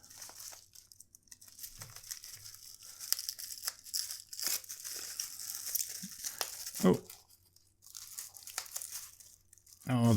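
Plastic packaging around a Lamy Safari fountain pen is crinkled, torn and cut with scissors, giving scattered close crackles and rips at moderate level, with bursts of louder tearing.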